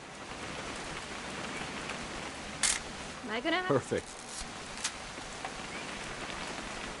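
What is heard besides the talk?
rain in video game What Remains of Edith Finch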